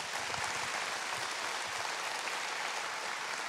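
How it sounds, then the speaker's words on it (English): An audience at a commissioning service gives a round of applause, a steady, fairly quiet wash of clapping with no pause. "I just want to give you a quick round of applause"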